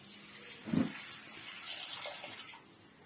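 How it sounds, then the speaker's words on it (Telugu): A brief splash as water is poured over tamarind to soak it, then a soft, trickling flow that fades out, heard close and fairly quiet. "కడుక్కున్నాక అలా పద నీళ్ళు పోసి నానబెట్టుకుంటున్నాను"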